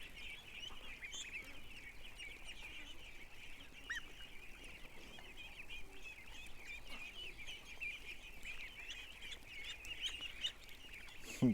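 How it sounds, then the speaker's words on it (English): Geese with their goslings keep up a steady, continuous high peeping and soft honking chatter at moderate distance, with occasional louder calls poking out near the end. "I've never had goose or goslings this friendly"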